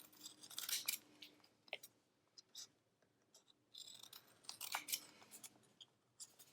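Scissors snip through a paper planner sticker up close, a few quiet, crisp cuts separated by soft rustling and pauses.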